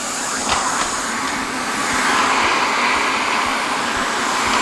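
A central vacuum system running with its 1.25-inch hose attached, a steady broadband rushing whoosh of suction that holds constant throughout, loud and close with no talk.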